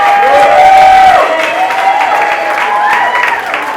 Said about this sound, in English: Clap it up for Chris.